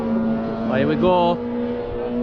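A motorbike on a race track sweeps past in a brief rising then falling engine whine, mid-distance, over steady engine drone, with a voice talking.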